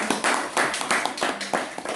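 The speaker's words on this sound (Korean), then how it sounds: "박수 한번" Lecture audience applause at a poetry talk, a steady patter of many hands clapping close and moderately loud for two seconds.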